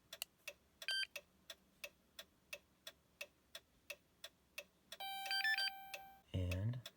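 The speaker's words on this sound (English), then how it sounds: "now that we've heard those beeps, our key is programmed" A Simple Key programmer plugged into a 2009–2010 Dodge Journey gives a long run of evenly spaced electronic ticks, then a few sustained tonal beeps and a louder final tone, all close and fairly faint.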